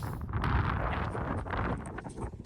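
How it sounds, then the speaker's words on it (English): Strong winter wind on the coast near Lindisfarne Castle buffets the microphone with a continuous low roar and rumble throughout. "It's so windy, I'm sorry."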